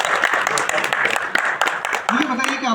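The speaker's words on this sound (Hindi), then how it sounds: "वेरी गुड, इनके लिए भी ताली बजाई जाए।" A lecture audience on healthy living claps for a participant's answer, brief close applause mingled with talking voices.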